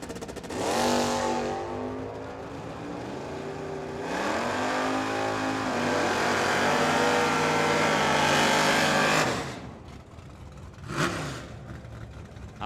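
A Corvette and a Camaro in a pro-category drag race at Firebird Motorsports Park roar off the line, engines revving hard and climbing through gears for several seconds before cutting out, followed by a brief loud burst and receding engine noise.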